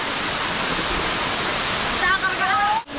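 Rushing roar of Pinsal Falls, a waterfall in Pangasinan, fills the clip as steady broadband white noise, close and loud, with a brief voice-like sound near the end.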